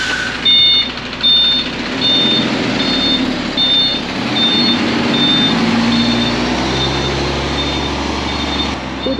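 Truck reversing on a farm while spreading lime, with a steady, loud series of evenly spaced reversing beeps over a rumbling engine, close by and continuous throughout.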